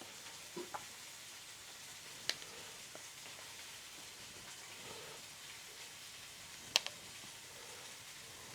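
Tomato puree and methi cooking in a pan for Bombay potatoes, a faint steady sizzle broken by a few sharp ticks and utensil clicks, no voices.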